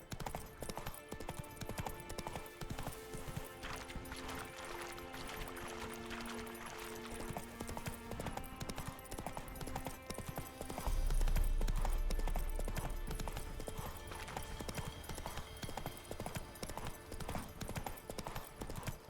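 A horse gallops in the Witcher 3 video game, its hooves beating a fast, steady rhythm that runs through the whole stretch over soft nighttime woodland ambience, with a low rumble swelling midway.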